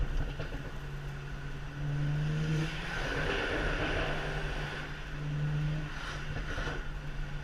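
A full bolt-on, stage 2 BMW 335is E92 with a DCT gearbox drones steadily from inside the car, the engine swelling twice into brief revs over a constant road roar, with no talk.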